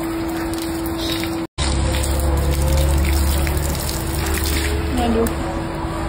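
Water gushes and splashes steadily close by during washing of a new car, with a sustained pumping hiss and low hum and a brief cut partway through.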